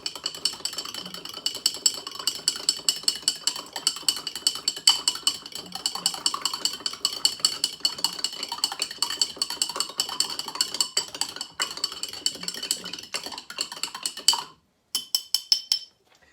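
A spoon stirs a gooseberry, mint and lemon mead mixture in a vessel, giving a steady run of quick, light clinking and scraping strokes, close and moderately quiet, with a brief pause near the end.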